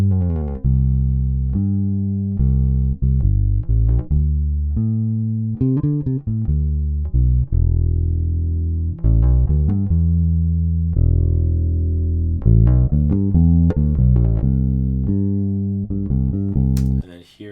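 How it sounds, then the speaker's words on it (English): Clean direct-input bass guitar played alone, with no amp, giving a dry, close, moderately loud sequence of plucked notes and short runs with a few brief pauses. "So here's the clean DI by itself."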